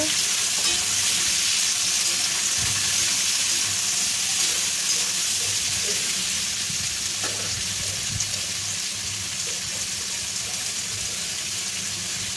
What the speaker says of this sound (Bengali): এবার আমি কেটে রাখা টমেটো দিয়ে দিলাম।